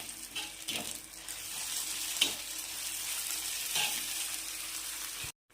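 Chili, garlic, cumin and ginger paste fries in a pan with a steady broadband sizzle, broken by a few brief clatters of stirring, and ends abruptly.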